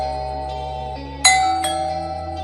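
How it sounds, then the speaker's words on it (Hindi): A two-note electronic doorbell chime rings out suddenly, bright and clear, over a low steady hum, its tones ringing on and fading slowly. "तभी डोरबेल बजती है।"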